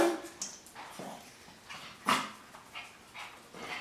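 A puppy gives a few short whimpers and soft yips in a quiet kitchen where dog treats are being baked, the sounds scattered and fairly close with no talking.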